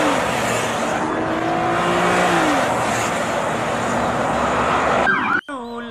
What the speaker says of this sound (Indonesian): Yang ini mobil patroli polisi teman-teman.